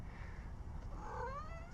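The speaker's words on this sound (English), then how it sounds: "What are you doing, kitty?" A pet cat gives a single drawn-out, rising and falling meow outdoors, faint against a steady low rumble of background noise.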